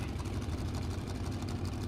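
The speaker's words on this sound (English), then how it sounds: "Oh, he's getting into the burnouts" Drag radial race car doing a burnout at a drag strip, a loud, dense, sustained engine roar with tire noise, with commentary faintly under it.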